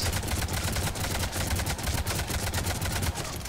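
Rapid pistol fire in the video game Mass Effect, dense repeated shots packed closely together with a steady loud roar throughout and no talk over it.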